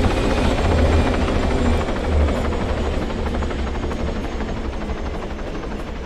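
Helicopter flying in the video game Arma 3 Exile, a loud sustained rotor drone with a steady low thrum and whine, close and constant throughout with no talk.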